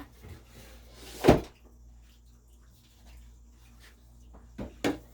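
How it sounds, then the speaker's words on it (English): Paint supplies are put back into studio drawers, giving one sharp knock of a drawer or cupboard closing early on, then a quiet stretch and two softer thuds near the end, with no talking. "Put them back in their drawers."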